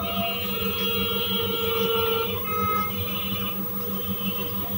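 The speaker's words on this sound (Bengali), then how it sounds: "অপর পাশে আমি সেম ভাবে আবার ফোল্ড করে সেলাই করে দিচ্ছি" A domestic sewing machine runs steadily, stitching folded fabric for a lined kameez, a continuous mechanical whir with fine rhythmic ticking, close and moderately loud, alone with no talk.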